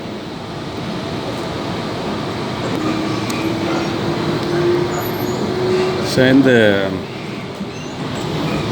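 A Sydney commuter train runs on past the stations, its steady low rumble and track noise close by, with a brief rising whine near the end and someone talking over it.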